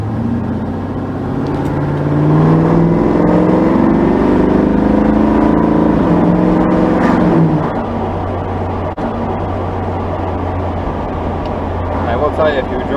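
Engine of a 1970 Chevrolet Camaro while driving, a steady low rumble that swells and rises in pitch around the middle before settling back to a constant drone, with people talking over it inside the car.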